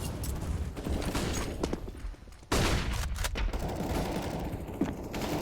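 Counter-Strike gunfire on the Vertigo map in an ESL Challenger League match, heard as dense rapid bursts and overlapping shots, with a brief lull before the firing resumes at steady, moderate loudness.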